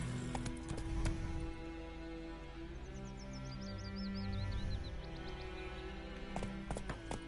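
Hoofbeats of Roach, a horse in The Witcher 3 video game, clip-clopping at a steady pace with a brief bird chirp in the middle.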